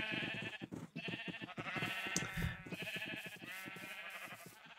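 Repeated sheep bleats from Minecraft livestock over a busy layer of game music and effects, with the bleats rising and falling in quick succession throughout.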